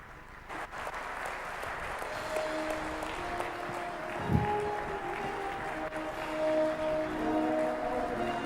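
A hall audience gives a warm round of applause welcoming a Toastmasters keynote speaker, steady and sustained for several seconds with a faint tonal hum underneath.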